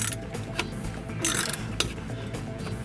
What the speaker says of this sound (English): stick it on the end of the ratchet like this, and let's see if I can get a view up there. Got it tightening.